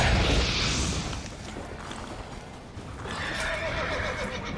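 Geralt's horse Roach in The Witcher 3 gives a loud, close whinny, with hoof clip-clops and game ambience underneath and a second softer neigh toward the end.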